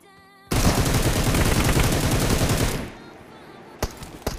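A sustained burst of rapid automatic gunfire in the video game PUBG Mobile, loud and close for about two seconds, followed by quieter ambience and a couple of sharp single shots, with no talking.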